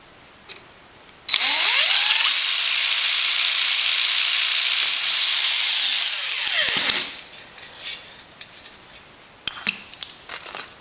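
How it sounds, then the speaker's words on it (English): A power drill bores nut plate holes in an aluminium RV-7 aircraft aileron, one close, loud whining burst lasting about five seconds, followed by clicks and handling noises. "You just go ahead and keep drilling, keep adding clecos."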